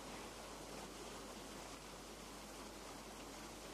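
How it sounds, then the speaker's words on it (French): A stream winds toward a mill in a Tibetan forest, giving a steady, dense wash of flowing water with no pauses and no voices, fairly faint and even throughout. "Un ruisseau serpente jusqu'au moulin"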